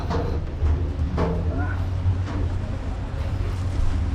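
A passenger ferry bound for Bacolod rumbles with a steady low engine drone, overlaid by wind buffeting and water wash, with faint voices in the background.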